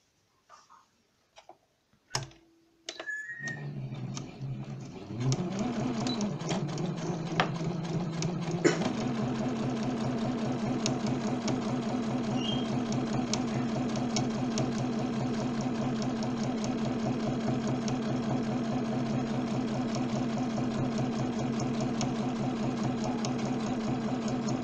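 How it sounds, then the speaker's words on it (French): After a few clicks and handling noises, a sewing machine starts up and stitches fabric stirrup covers in a fast, steady mechanical rattle that runs on evenly and close for about twenty seconds. "On stoppe la couture."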